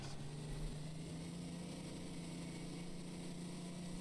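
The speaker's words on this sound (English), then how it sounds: "That's a rescue engine too." Steady low engine idle of a fire rescue engine in the EmergeNYC video game, a continuous droning hum with a faint constant whine above it, unchanging throughout with no voices.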